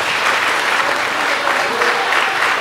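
Dense, loud applause from the audience at a Hindi poetry recital (kavi sammelan) in Jamshedpur, a continuous wash of clapping throughout with no voices over it.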